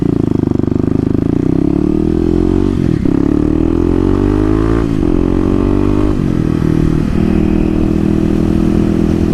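Engine of a 2018 Kawasaki KLX250 motorcycle running close and loud, a steady buzzing idle that swells into several short rising revs and falls back between them.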